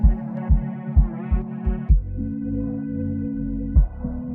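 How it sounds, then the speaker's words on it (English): Deep, booming kick drum hits in a steady pattern, roughly two per second, then a sustained low bass tone with another hit near the end. "Here's the kicks again."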